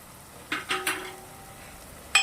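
Spoon stirring green masala paste into a village-style arbi (taro) and green bean curry in a pan: a few quick scraping strokes close by with a light sizzle beneath, then a sharper clink near the end.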